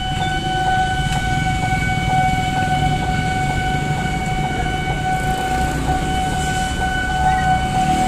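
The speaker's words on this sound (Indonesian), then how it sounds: "wes kita tunggu aja tuh keretanya tuh" An Indonesian commuter train pulls into a station, its steady loud rumble and rolling wheels filling the whole stretch under a sustained high tonal whine from the train.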